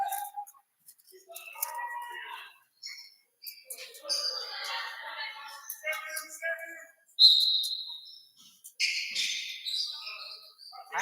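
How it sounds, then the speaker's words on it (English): Shrill referee whistle blasts at a basketball game between LCS and Statesville, several short bursts rising over a lively gym with crowd chatter and sneaker noise. "Ref blows the whistle."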